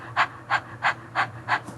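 Rhythmic panting from people in a childbirth breathing class, five quick breathy pants evenly spaced and fairly close, mimicking a dog, with no talking.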